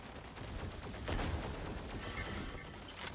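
In the mech combat game Mech Arena, a robot comes under fire from several directions, a fairly quiet stretch of rapid gunfire bursts and crackling shots that rise briefly, all without talking.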